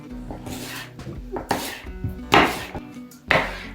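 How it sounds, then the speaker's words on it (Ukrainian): A knife slices apples into wedges in several crisp chops, each ending with a thud on a board, with faint background hum. "Тепер яблука потрібно нарізати такими дольками."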